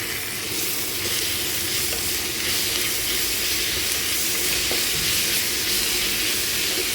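Onions and tomatoes sautéing in a pan for a country chicken curry, a steady, loud sizzle and hiss with soft stirring noises underneath, no voices.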